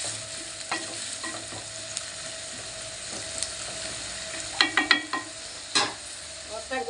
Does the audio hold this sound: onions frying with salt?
yes